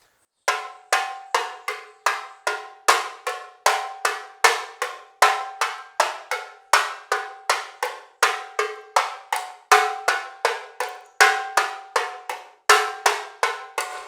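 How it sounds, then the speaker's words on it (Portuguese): Tamborim struck in the samba school 'virado' rhythm, bright sharp metallic-sounding hits in repeating rolling groups at a slow, even practice tempo, close and alone with no talk. "aos pouquinhos para você perceber como fica o tamborim virado, desde uma velocidade bem mais fácil para você perceber batida por batida"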